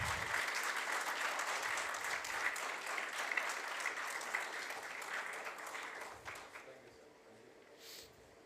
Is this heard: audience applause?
yes